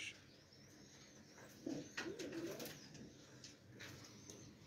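Sialkoti pigeons cooing in a breeding setup in Sialkot: a few soft, low coos in the middle against a faint steady background hum, fairly quiet and close, with no clear talk.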